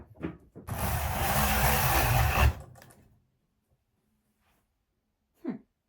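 The carriage of a vintage knitting machine makes one sliding, ratcheting pass of about two seconds, with clacking mechanical texture. Silence follows, then a single brief click.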